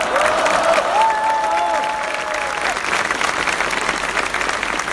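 Outdoor crowd at the Chain of Light street demonstration in Poznań clapping warmly, a dense, sustained applause from many people, with a few whistled tones early on and the clapping thinning slightly toward the end.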